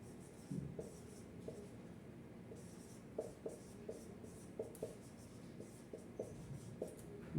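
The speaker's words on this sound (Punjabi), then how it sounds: "ਹੁਣ ਮੁੱਖ ਸ਼ਬਦ ਕੀਵਰਡਸ ਲਿਖਦੇ ਆ" Faint scratching of a pen writing on paper, a run of short, light strokes in a quiet room, steady and close.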